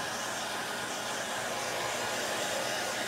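A hair dryer blows steadily at close range over chalk paste, a constant even whoosh with no breaks or voices.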